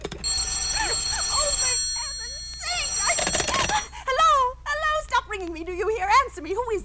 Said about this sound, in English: Stop ringing me, do you hear?